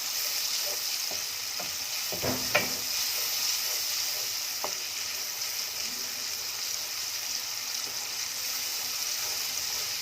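Ginger, garlic and a few whole chillies fry in oil in an Instant Pot. A steady close sizzle runs throughout, with a few brief clinks and stirring scrapes near the start.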